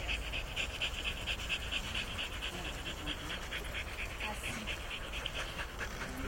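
A dog pants steadily and close by throughout, a fast even rhythm of breaths during an obedience session on aggression between dogs, with no other sound standing out.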